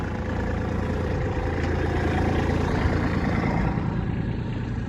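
A Kubota tractor engine idles steadily with the parking brake set in an Iowa blizzard, a continuous loud low rumble that stays even throughout with no talking.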